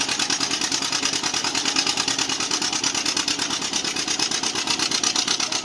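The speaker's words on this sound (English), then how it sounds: "There's Jim Baum on a John Deere G" A John Deere G tractor pulls in the 6000-pound pure stock class at a tractor pull, its engine a steady loud, pulsing rumble that throbs evenly throughout with no letup.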